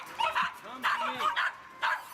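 Small Yorkie dogs yap and whimper in short, close bursts on a neighborhood street, several sharp high barks repeating over about two seconds.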